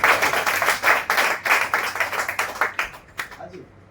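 Loud clapping from a crowd at a network marketing meeting, dense and continuous for a few seconds before thinning out into scattered claps and fading.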